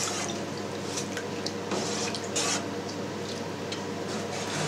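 Hot water is poured slowly and gently into a vat of cheese curds for Havarti, giving a continuous soft trickling and splashing with a few louder drips.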